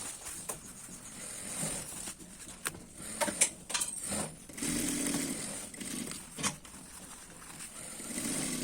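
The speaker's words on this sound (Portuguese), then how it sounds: "fazendo essa costura, ajeitando as pinças" Domestic sewing machine stitching a seam and setting darts while assembling a jumpsuit outfit for a fifteenth-birthday party, heard as quiet, uneven whirring bursts with short pauses and light handling clatter, no talking.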